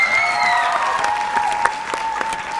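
A studio audience at a televised dance competition gala applauds dancers with full, sustained clapping, while music carries faintly beneath it.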